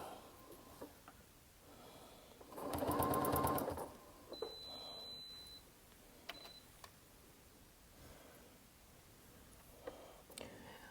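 A home sewing machine runs in one short, steady burst of stitching. A single high electronic beep follows, then quiet room sound with faint small clicks.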